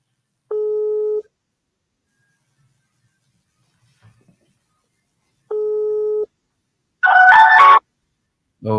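A telephone busy signal sounds twice as steady tone bursts a few seconds apart, with a clatter of other noise after it, loud and clear with no speech.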